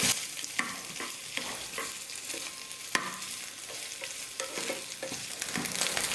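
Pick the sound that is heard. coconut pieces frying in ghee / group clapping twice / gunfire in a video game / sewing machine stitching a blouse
coconut pieces frying in ghee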